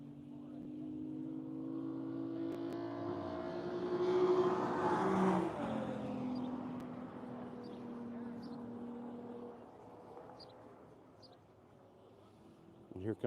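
Race cars on the track at Grattan during the Tire Rack One Lap of America, engines droning closer and swelling to a loud pass before fading into the distance, with a commentator talking over it.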